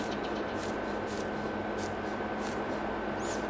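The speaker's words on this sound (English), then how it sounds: "I guess we got some spray washers out here in the middle of the park" Steady hiss of spray washers running in the middle of a park in Farming Simulator 22, a constant broadband wash of spraying water with faint brief bursts on top, continuous and fairly even throughout.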